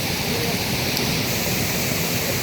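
A small riverside waterfall roars steadily and loudly up close, a constant broad rush of falling water with no talk.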